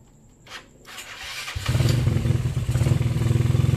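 A Yamaha Mio Soul scooter is started close by. A few quiet clicks and a thump come first, then the engine catches and runs with a loud, rough, pulsing idle that rises as it is revved.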